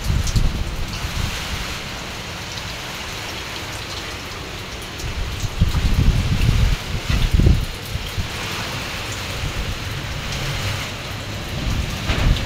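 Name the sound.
heavy rain and wind of Typhoon Uwan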